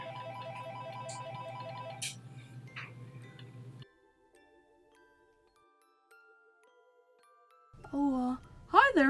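A rhythmic electronic ringtone chimes with repeated tones, then goes quiet before a voice speaks near the end.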